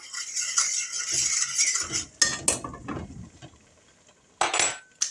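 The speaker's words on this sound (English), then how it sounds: "stir this one more time" A spoon stirs a Rice A Roni Four Cheese Blend chicken pot pie mixture in a pot, with clinking and scraping strokes in uneven bursts and short pauses between them. It is fairly close, with no talking.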